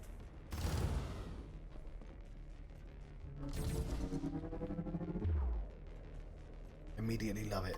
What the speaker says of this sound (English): We'll take the sonic cannon.